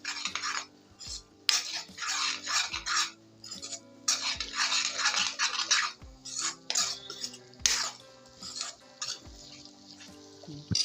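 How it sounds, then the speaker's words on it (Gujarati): Green paste of ginger, garlic and chili sautéing in oil in a pan for a green chickpea curry, with spoon stirring and scraping against the pan in uneven bursts over a soft sizzle, close and alone with no talk. "હવે એને આપણે એક મિનિટ માટે આ રીતના શેકી લઈશું તેલની અંદર"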